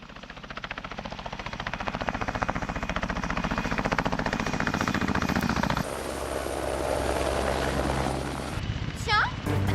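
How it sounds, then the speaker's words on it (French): A helicopter flies overhead with a steady rhythmic rotor drone that builds through the clip, shifts in tone partway, and ends under a brief whistle-like sound. "Tiens, un hélicoptère."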